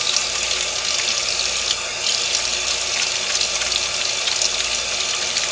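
Running water from a tap splashing steadily while melt and pour soap is lathered under it, a loud continuous hiss and gush with no talk.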